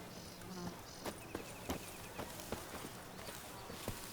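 Roach, a horse in The Witcher 3: Blood and Wine, gallops with faint, evenly spaced hoof clops under a soft hum and light ambient noise.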